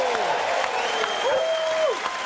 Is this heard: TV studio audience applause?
yes